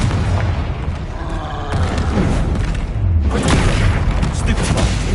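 A booming blast from the Confringo spell in the Hogwarts Legacy video game. It is loud and dense, layered with rumbling impacts and crackle, and a voice is heard casting spells over it.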